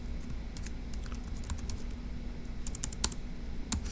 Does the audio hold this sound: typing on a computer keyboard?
yes